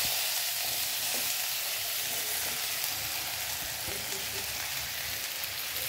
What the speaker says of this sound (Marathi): तर ही फोडणी आता आपली चांगली तडतडत आहे. तर मी आता हे सारण आपण जे केलेलं आहे ते मी त्यात टाकून घेत आहे.